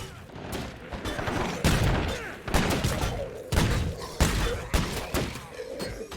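Heavy .50 cal machine gun fire in the video game State of Decay 2, loud booming bursts repeating at irregular intervals with thuds and rumble between them.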